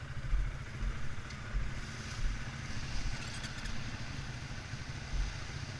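Four-wheeler ATV engine running nearby, a low rough chugging drone with slight revving surges, steady throughout with no voices.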